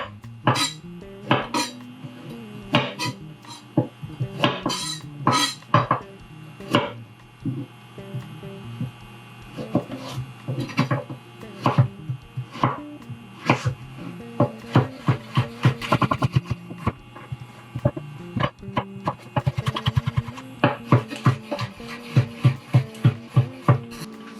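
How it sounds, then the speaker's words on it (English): Knife strikes on a cutting board while chopping a carrot: sharp, close clicks and knocks in uneven bursts, sometimes rapid and sometimes spaced, over a faint steady hum. "Chop your carrot."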